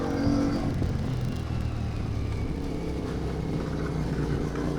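A CFMOTO 450MT motorcycle engine hums steadily on a dirt road, a continuous low droning rumble with slight rises and dips, close and unaccompanied by talk.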